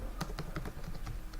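Quick, close keystrokes on a computer keyboard as a Linux command is typed, about half a dozen light clacks in an uneven rhythm over a steady background hum.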